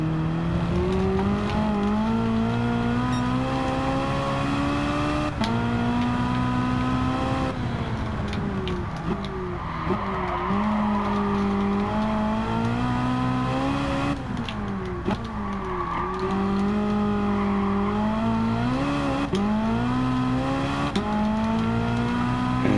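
An Alfa Romeo 4C engine pulls hard while driving, loud in-cabin revs climbing repeatedly through the gears with sharp drops at each shift, steady and continuous.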